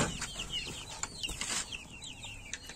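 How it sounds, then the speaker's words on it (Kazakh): Farm chickens clucking nearby in short chirpy calls, with a brief flutter of wings and light background noise. "Сіздерге тауықтарымды көрсетіп жіберейін."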